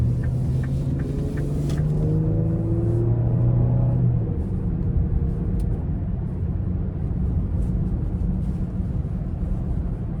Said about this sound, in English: I'm gonna give it just a small pull coming out of this corner here in the normal mode.